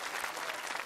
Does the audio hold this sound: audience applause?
yes